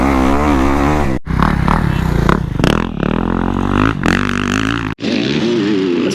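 Motocross bikes roar past on a dirt track in Texas, their engines revving and rising and falling in pitch. The sound is loud and close, with brief drops between passes.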